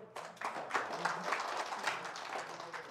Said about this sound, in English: Let's give a clap of praise to the Lord.